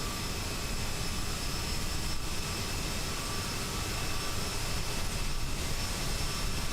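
A CRJ jet taxiing in Microsoft Flight Simulator at Bonaire, its engines giving off a steady, loud, unbroken roar and whine throughout, with no voices.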